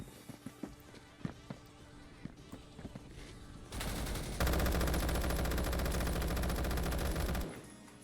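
Gunfire in a Roblox shooter game: scattered sharp shots and footsteps, then a loud sustained burst of rapid automatic fire lasting several seconds before cutting off.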